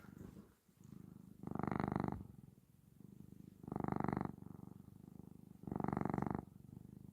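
A pet cat purrs close up in a steady rhythmic cycle, three strong swells of rumbling purr separated by softer inhalations, soft and intimate with no talk.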